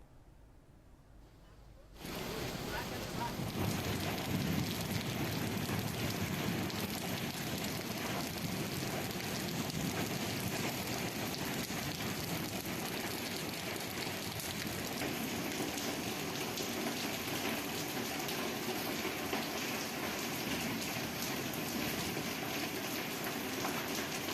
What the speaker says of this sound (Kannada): ದಕ್ಷಿಣ ಕನ್ನಡ ಜಿಲ್ಲೆ ಪುತ್ತೂರಿನಲ್ಲೂ ಧಾರಾಕಾರ ಮಳೆಯಾಗಿದೆ